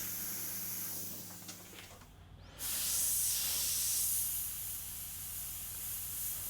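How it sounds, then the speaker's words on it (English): An airbrush sprays paint with a steady close hiss that drops away briefly, then returns stronger and brighter, continuing without pause. "So obviously up nice and close with the airbrush wherever I want a sharp shadow, and then further away to blend that out."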